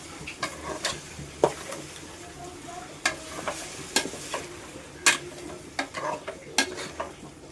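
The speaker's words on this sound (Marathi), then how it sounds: "आता ही चिकन ग्रेव्ही मी व्यवस्थित मिक्स केलेली आहे" Chicken gravy stirred and sizzling in a pan, with repeated sharp scrapes and clinks of a spoon against the metal over a steady low crackle, close and fairly loud, no talking.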